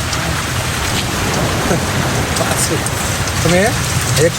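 Steady rain after about eight hours of nonstop downpour, a dense, loud hiss of drops hitting surfaces outdoors. A person speaks briefly over it near the end.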